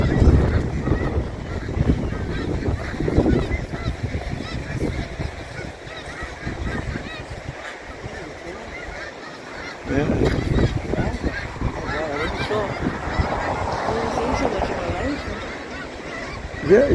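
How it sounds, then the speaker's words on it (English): Arctic geese honk in a busy flock heard from a sailboat, a CS 36 Traditional, with repeated overlapping honks and calls rising and falling over wind and water noise, moderately near, with people talking in between. "you see how there's some geese down there too."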